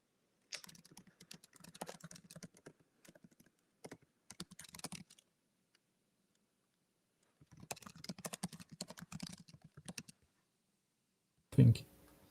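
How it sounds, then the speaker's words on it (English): Fingers type on a computer keyboard in quick bursts of clicky keystrokes with quiet gaps between them, fairly soft and close, ending with a single louder thump. "I'm typing questions to Fabian."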